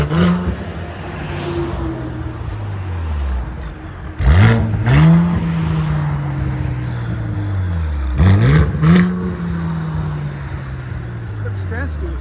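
A 2017 Mercedes C43 with a 3.0L twin-turbo V6, downpipes and a cat-back exhaust, revved hard three times in a row. Each sharp, loud rise is followed by a long falling growl back toward idle.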